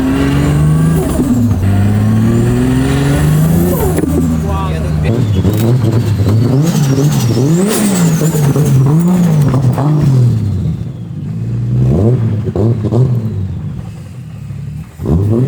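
Toyota JZX100 with a 500 hp turbocharged 2JZ engine revs loudly and close, its pitch climbing and falling in repeated surges before easing off, with voices talking over it.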